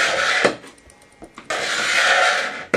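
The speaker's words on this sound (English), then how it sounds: "you go along the straight edge with the chisel several times," A chisel dragged repeatedly along a straight edge to score a groove, with two sustained scraping passes separated by a brief quieter gap and short raspy strokes, loud and close.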